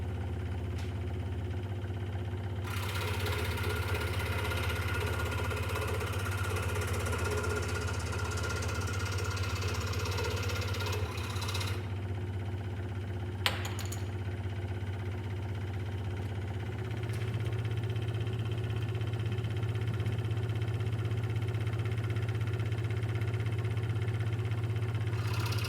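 A scroll saw cutting out a shape in a workshop hums and vibrates with a steady, close motor drone, its reciprocating blade buzzing continuously, brightening and dropping back as the cut proceeds.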